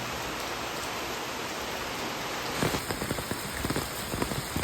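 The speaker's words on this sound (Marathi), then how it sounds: "पावसाळ्यातलो पाऊस मात्र आज पडलो" Heavy monsoon rain pours steadily in a dense, even hiss, with sharper drops pattering onto a nearby surface in the latter half, continuous and fairly soft with no voices.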